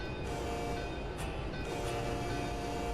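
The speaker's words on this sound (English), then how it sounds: "And we got another train coming up behind" Another train passes in the Train Simulator game on Marias Pass, a steady rumbling of rail cars and wheels at moderate loudness, continuous for the whole span without talk.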